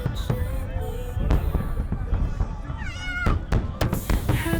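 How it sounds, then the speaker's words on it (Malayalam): New Year fireworks burst across the sea in a string of sharp, separate bangs, while a voice sings nearby over them. "ദേ കടലിനക്കരെ പൊട്ടുന്നു ന്യൂ ഇയർ വെടിക്കെട്ട്"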